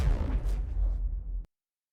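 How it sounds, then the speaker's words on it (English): A sci-fi explosion effect in the style of a laser cannon, AI-generated: a booming, whooshing burst with bright zaps that holds for about a second and a half, then cuts off abruptly into silence. "here's a sci-fi explosion."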